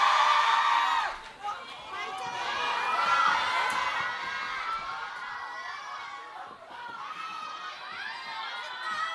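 Audience applause and cheering at a K-pop album comeback showcase, a loud sustained crowd roar with whoops and shouting that dips briefly, then swells again.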